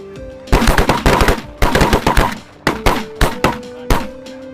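Gunfire rings out during a bird hunt in rapid overlapping volleys, then in single sharp shots about every half second. The shots are loud and close, each one followed by a short ringing decay.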